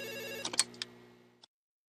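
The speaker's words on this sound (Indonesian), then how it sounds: "Wah, ada telepon." A telephone rings in an indie horror video game, bright repeated ring bursts with a short electronic tone that stops abruptly just before the end, with no talk over it.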